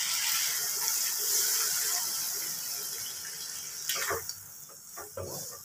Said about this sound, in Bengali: এর মধ্যে দিয়ে দেবো এবারে গরম জল